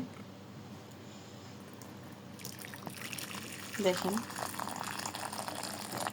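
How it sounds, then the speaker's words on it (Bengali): Boiled water pours into a bowl partway through with a close, gurgling splash after a quiet start, while someone speaks briefly. "পানিটা আমি অল্পই দিয়ে দিব, পরে লাগলে আবার দেব।"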